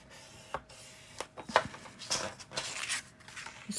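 Paper being scored with a tool along a scoreboard, a handful of short, scraping strokes and taps close up and fairly quiet, with no voices.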